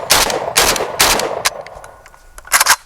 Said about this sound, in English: I'm gonna shoot the left and the right target